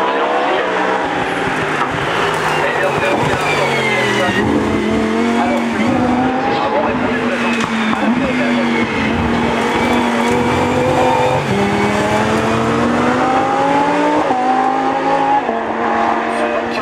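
A Lamborghini Huracan ST Evo races up the 2022 Turckheim–Trois-Épis hill climb, its engine wailing continuously through shifting revs and gear changes at moderate distance while a commentator talks over it.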